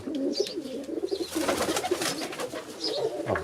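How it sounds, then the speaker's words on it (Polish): Zamość pigeons, a Polish breed, coo in soft repeated throaty calls that overlap, close by, over a low indoor murmur. "Śliczne gołębie."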